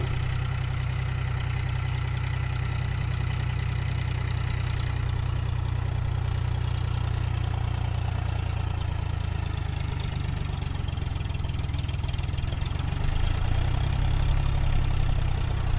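A John Deere 5045D tractor engine labours steadily as the tractor climbs out of deep mud, a loud, low, constant drone that swells slightly under heavier load near the end.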